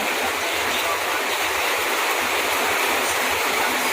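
Steady rain falls in a dense, unbroken hiss, close and loud throughout with no pauses.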